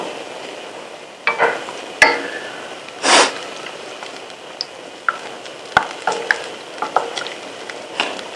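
Paya curry mixture cooks in a pan while being stirred, with intermittent spoon scrapes, clinks and soft squelches over a quiet sizzle, close up and without talk.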